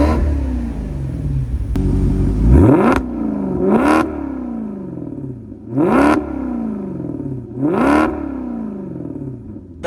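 A Maserati GranTurismo Sport V8 convertible revs hard, with a loud, close engine that climbs repeatedly in sharp blips, each rising then falling back to a rumbling idle, no talking.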